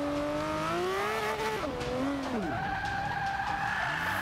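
Tires squeal and skid as a race car whips around on the reverse Laguna Seca circuit in Forza 5, the engine pitch bending down sharply and then climbing back to a steady high whine.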